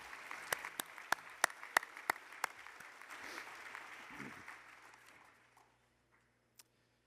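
Convention audience applauding after a chairman's call for recognition, a burst of dense clapping with a few sharp claps standing out, fading away over several seconds into silence.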